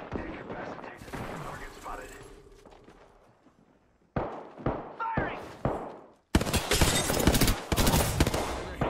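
Gunfire from the video game Apex Legends, with a Hemlock rifle, comes in dense bursts and volleys, a first stretch fading out and then loud repeated rapid shots over a continuous clatter, with a player talking over it.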